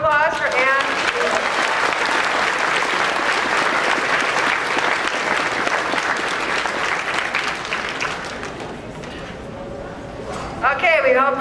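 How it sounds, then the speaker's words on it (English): Audience applause fills a convention costume-contest hall, a dense sustained clapping from a large crowd that slowly thins out, with a few voices rising near the end. "Let's have a round of applause for Anne."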